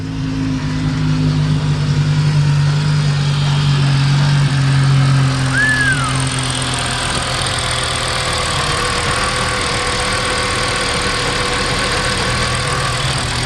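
Car engine running at a steady idle after being revived, a loud, even low hum that eases slightly after a few seconds, with a brief high chirp partway through.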